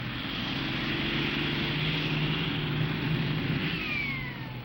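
Tractors pulling a 60,000-pound weight along a 300-foot track at a Purdue University tractor pull in 1981, a sustained engine drone with a low steady hum and a rising whine near the end, moderately loud and continuous.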